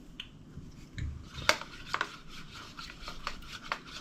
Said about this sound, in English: Now mix it in with your porridge.